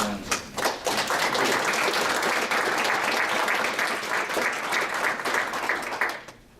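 An audience warmly applauding to welcome a speaker at an evening talk, a steady dense clapping from a sizable crowd that holds for several seconds and then tapers off.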